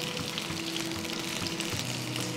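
Fish fries on a tawa in a steady, dense sizzle with oil crackling, close and continuous, with no talk.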